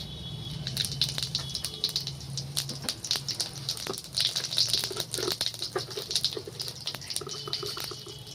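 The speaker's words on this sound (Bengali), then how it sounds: "এই তেলের মধ্যে দিয়ে দেবো আমি একটা শুকনো লঙ্কা, তেজপাতা, গরম মশলা আর দেবো জিরে।" Dry red chilli, bay leaf, garam masala and cumin crackle in hot oil for a chitol fish muitha, with a steady close hiss broken by many sharp pops and spits throughout.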